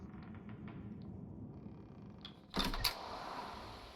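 A cabin door creaks open in the video game The Pale Beyond, a sudden loud creak after quiet ambience, followed by a second sharp groan and lingering rumble.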